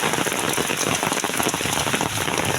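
Heavy rain falls without a break, a dense, loud, even hiss of drops striking surfaces, with no voices.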